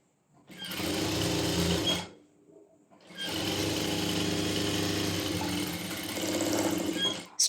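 A sewing machine runs a half-inch straight-stitch seam on trousers along a seam guide, in two rapid, close whirring runs, a brief one and then a longer steady one after a short pause.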